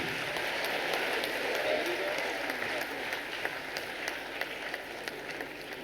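Steady applause from an audience at a morning session, a broad wash of many hands clapping continuously, moderately loud and even from start to end, with faint crowd murmur underneath.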